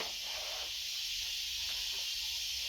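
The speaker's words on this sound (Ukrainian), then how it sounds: "Так, дівчатка, буду гладити, в мене трішки назбиралось футболок." A steam iron hisses while t-shirts are being ironed, a steady soft broadband hiss that runs unbroken throughout, faint and alone with no voices.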